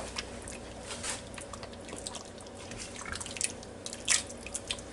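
Hungarian goulash being stirred in a Ninja Foodi pot, giving quiet, close, wet squelches and soft drips that come in irregular bursts.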